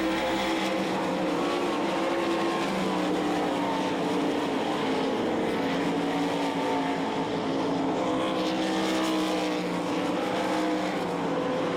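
Race cars roaring around a track at a 360 nationals race meeting, a dense, steady engine drone that holds loud and continuous from start to finish.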